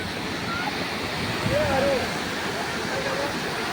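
Fast-flowing river water roars in a dense, continuous rush close by, with a faint voice briefly heard underneath.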